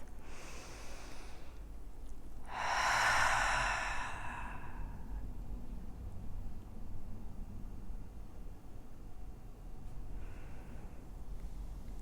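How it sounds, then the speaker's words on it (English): A long, slow breath pushed out through the mouth during a mellow yoga relaxation practice, a soft airy sigh up close in a quiet room, with fainter breaths before and after it. "exhaling through the mouth"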